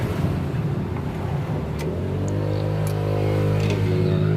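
A Fuso 6M70 truck diesel engine with a knocking fault runs steadily under acceleration, a loud low droning hum with rising harmonic tones and faint clicks, recorded up close with no talk.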